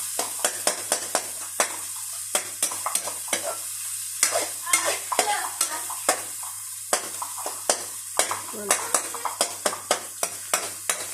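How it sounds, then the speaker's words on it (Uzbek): Tomatoes frying in hot oil in a pan, a steady sizzle broken by frequent sharp scrapes and clacks of a utensil stirring, close and loud with no talk. "Uzib qovuryapti."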